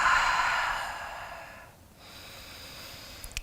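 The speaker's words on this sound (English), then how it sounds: "breathe deep" A long, deep breath drawn in and let out during a hip and back yoga session, a soft airy rush that fades, then a quieter second breath begins close to the mic.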